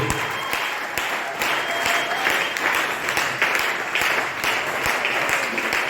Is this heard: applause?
yes